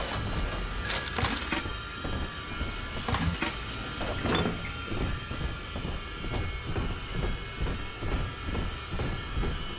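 A train in Bioshock 2 starts up and rolls on, with a steady rumbling rail clatter and rhythmic clickety-clack thumps under a bright metallic hum, fairly close and continuous throughout.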